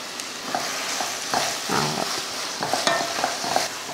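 Tomato masala paste sautéing in a pan with coriander leaves, curry leaves and mint, stirred with repeated spoon scrapes over a steady close sizzle.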